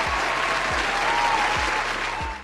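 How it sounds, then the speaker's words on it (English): Studio audience applause, a dense, steady wash of many hands clapping for a couple of seconds before tapering off at the end, with low thumps underneath. "Give her a round of applause"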